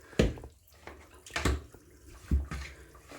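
Baby onesies are pushed down into a tub of water to soak for tie dye, giving splashy sloshing bursts at irregular intervals with quiet drips and trickles in between.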